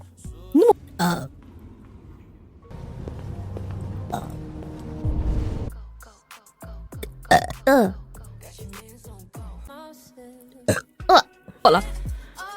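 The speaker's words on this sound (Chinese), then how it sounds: "等一下，打个嗝。" A virtual streamer burps several times in short, throaty bursts between stretches of casual talk and game sounds, loud and close.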